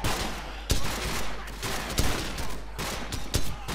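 Gunfire in Call of Duty 4: Modern Warfare, an intense burst of rapid shots over a noisy combat background, with several sharp loud cracks standing out amid continuous crackling fire, no talk.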